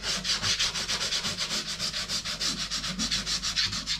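Sandpaper rubbed by hand over dried Soudal Light Speed Filler patching holes in a wall, making steady, rhythmic back-and-forth scratchy strokes, close and fairly loud, with no talking.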